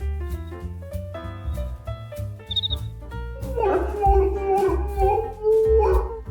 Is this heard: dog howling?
yes